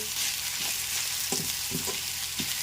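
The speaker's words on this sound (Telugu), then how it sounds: "సరిగ్గా ఉప్పు పసుపు వేసి ఇటు ఇటు ఇలా కలగబెట్టేయాలి" Raw banana slices with salt and turmeric are stirred in a frying pan. A steady close sizzle carries several soft scraping strokes as the pieces are turned.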